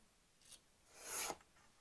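A cutting tool trims a sheet of vellum paper for stamped artwork, giving a short faint scrape and then a longer swelling rasp that fades away.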